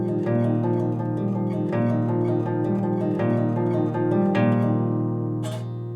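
Fingerstyle acoustic guitar plays a song at a fast tempo, a steady rolling stream of plucked notes over sustained chords, close and clear with no talk.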